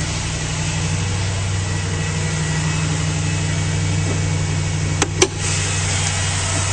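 A 6.1 liter Hemi V8 in a 2010 Jeep Grand Cherokee SRT-8 with a K&N intake idles smoothly under the open hood, a steady low rumble with a couple of brief clicks near the end.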